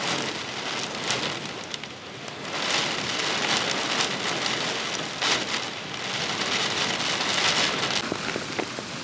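Steady rain pours down on a hard surface, a dense hiss with scattered louder drops, constant throughout with no voices.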